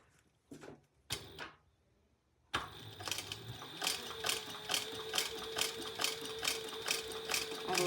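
After a few brief clicks and handling noises, a sewing machine starts up and stitches steadily around a fabric tag, a loud, even rhythmic whir with regular pulses that runs to the end.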